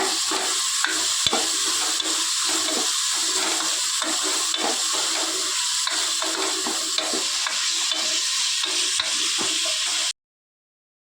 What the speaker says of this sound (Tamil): தக்காளி வதங்கிடுச்சுங்க நம்ம மிளகாய் ஒரு அஞ்சு மிளகா சேர்த்துக்கலாங்க பச்சை மிளகாய் இதுலேயும் இதுவும் வதங்கிட்டுங்க